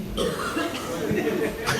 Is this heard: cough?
yes